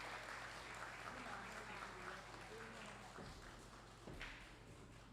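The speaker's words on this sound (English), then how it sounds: "a resounding round of applause for Mrs. Tamara McKenzie" Crowd applause at a graduation ceremony, a steady, distant-sounding wash of clapping that fills the whole stretch without a break.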